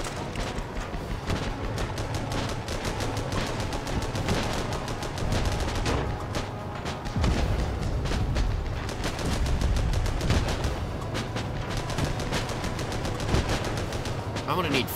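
Sustained machine gun fire in the tank combat game Armored Battle Crew, a continuous dense rattle of rapid shots with heavy thuds mixed in, loud and unbroken.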